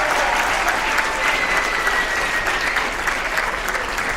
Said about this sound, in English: One more time, a big round of applause for our entire panel